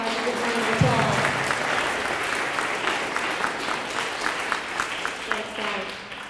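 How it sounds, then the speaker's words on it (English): A spelling bee audience gives a round of applause for two participants, a steady wash of clapping lasting several seconds with some voices mixed in before it tapers off. "Let's give these guys a good round of applause."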